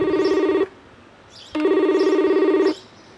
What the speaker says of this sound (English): Makes a telephone ringing sound.